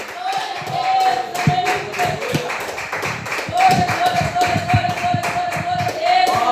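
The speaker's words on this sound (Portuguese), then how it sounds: "vamos receber o servo de Deus com palmas bem alegres para o Senhor Jesus." A church congregation claps steadily and rhythmically in time, welcoming a preacher, with music or a sustained tone underneath, the claps sharp and close.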